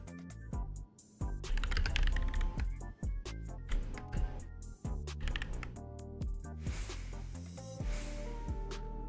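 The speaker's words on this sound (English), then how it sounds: "now the keyboard sounds a lot better than it did yesterday when it was first out of the box" Mechanical keyboard keys clack in quick, uneven bursts with short pauses, close and crisp, with no talking over the typing.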